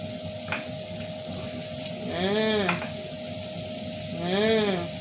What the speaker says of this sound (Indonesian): Mau goreng bakwan